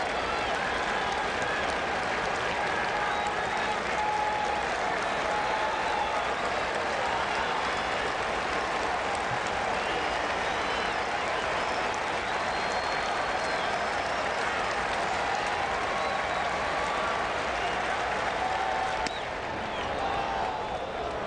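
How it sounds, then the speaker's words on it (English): A baseball stadium crowd cheers and claps steadily with two strikes on the Cardinals third baseman, a dense, sustained roar of applause from many people filling the whole stretch at fairly even loudness. "with 2 strikes, this crowd will come alive."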